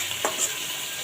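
Fish and fried onions sizzle in a pan, a close, steady hiss with a brief scrape of stirring.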